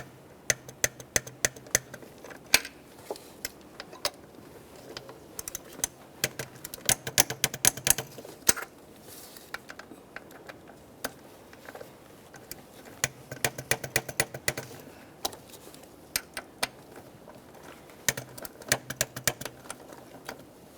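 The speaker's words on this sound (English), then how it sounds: "Torque these to that 60 inch-pounds." Torque wrench tightening ignition coil bolts on a 2012-2018 Nissan Maxima 3.5L V6: sharp, quiet ratchet clicks in irregular bursts and clusters, close up, with no speech.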